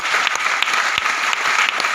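A live seminar audience claps loudly and densely, a close, sustained burst of applause with sharp individual claps standing out.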